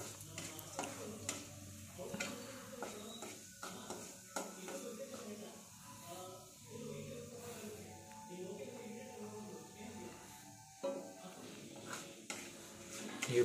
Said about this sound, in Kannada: ಕರಿಬೇವು ಸೊಪ್ಪು ಹಾಕಿದ್ಲು, ಇವಾಗ ಫ್ರೈ ಮಾಡ್ತಾಳೆ